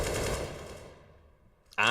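AK rifle gunfire in Counter-Strike: Global Offensive: a rapid dense burst of shots that rings out and decays over about a second, followed by the onset of another loud sound.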